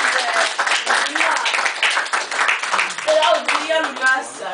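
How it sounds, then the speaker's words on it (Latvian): An audience at a ceremony breaks into steady, dense applause, many hands clapping close and loud for several seconds, with a voice speaking over it. "aplaus mūsu mīļākajai Luīzei"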